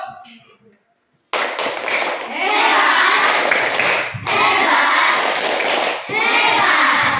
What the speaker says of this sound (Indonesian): Mari kita tepuk semangat, tepuk hebat ya, Bu.